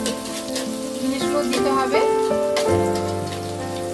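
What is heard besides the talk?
finely chopped ginger frying in pan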